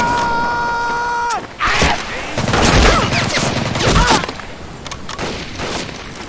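Heavy gunfire erupts in a Pacific jungle combat scene from Medal of Honor: Pacific Assault, with rapid rifle and machine-gun bursts, loud booms and shouting soldiers layered over a tense musical backdrop.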